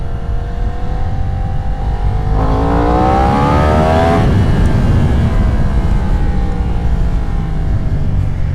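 A Yamaha R1 sport motorcycle accelerates hard during a wheelie control test, its engine note climbing steadily through the revs over a continuous loud roar, with no talking.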